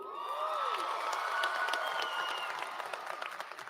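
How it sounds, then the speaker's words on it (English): An audience at a 2022 college commencement for health and human services graduates applauds steadily, with dense clapping and scattered cheers and whoops that taper slightly toward the end. "Give yourself a big round of applause."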